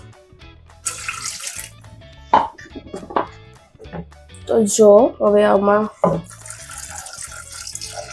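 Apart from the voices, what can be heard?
water poured into pot for dal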